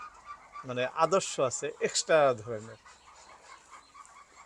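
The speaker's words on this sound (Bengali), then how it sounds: "দর্শক, অনেক হাঁস আছে এখানে" Chinese ducks inside a duck farm shed give a close burst of nasal, honking quacks that overlap for a couple of seconds and then fade to quiet, with a short spoken phrase mixed in.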